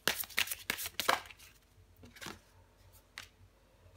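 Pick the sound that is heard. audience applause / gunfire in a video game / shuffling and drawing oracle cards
shuffling and drawing oracle cards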